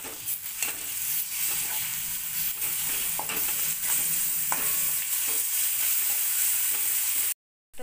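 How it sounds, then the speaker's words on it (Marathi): Ground masala paste sautéed with onions in a pan makes a loud, continuous close sizzle with occasional spatula scrapes and taps, cutting off abruptly just before the end. "आता हे वाटण याच्यात चांगलं परतून घेऊयात।"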